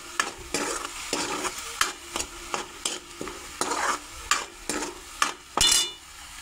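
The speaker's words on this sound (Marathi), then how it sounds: "असं चांगलं असं शिजून घ्यायचं मस्त 5 मिनिटं असं चांगलं शिजून घेतलं ना ते कांदा त्यातला चांगला परतून निघतो" Chopped onions for chole masala sizzle as they sauté in a pan and are stirred, with repeated scraping strokes of the spoon landing every half second or so over a steady frying hiss, close and fairly loud.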